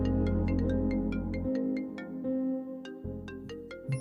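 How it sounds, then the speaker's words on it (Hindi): A mobile phone rings with a repeating electronic ringtone, bright tonal notes pulsing steadily over a sustained low musical bed, fairly loud and close, with no talking. "घर से फोन आया है।"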